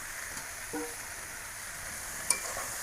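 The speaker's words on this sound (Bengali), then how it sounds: "শাকটা একটু লাড়িয়ে মিশিয়ে আমি ঢাইকা দেবো" Water spinach greens with green chillies fry in a pan as they are stirred, making a low, soft sizzle with a few faint scraping stirs and one brief clink.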